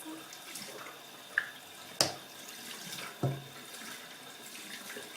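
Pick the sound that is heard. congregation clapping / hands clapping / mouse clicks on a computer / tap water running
tap water running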